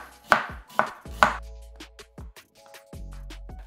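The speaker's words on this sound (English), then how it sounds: "it's just a case of slicing it as thin as we can" A knife slices a cabbage thinly for sauerkraut. Three crisp, heavy cuts are followed by a run of lighter, quicker slices against the board, close and alone with no talking.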